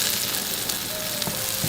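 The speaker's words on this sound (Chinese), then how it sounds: "鱼给它下锅煎一下" Fish seasoned with sea salt and black pepper fries in hot oil in a pan, producing a dense, steady, close sizzle and hiss for a brief moment with no voices.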